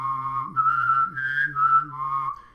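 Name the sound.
bass-whistling technique, whistling melody with bass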